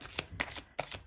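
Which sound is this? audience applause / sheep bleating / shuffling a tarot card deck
shuffling a tarot card deck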